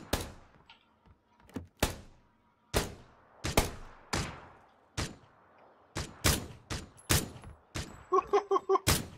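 SKS rifle shots in an online battle-royale video game ring out as a dozen sharp, spaced cracks, ending in a quick burst of several rapid shots, with faint game background noise between them.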